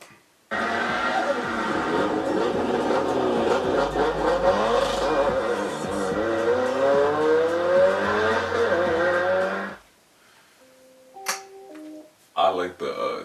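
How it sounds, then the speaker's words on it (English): A Mitsubishi Evo MR launches from takeoff, its loud engine climbing in pitch through repeated rising sweeps for about nine seconds before cutting off abruptly, leaving a few faint scattered noises. "I like the takeoff of an Evo."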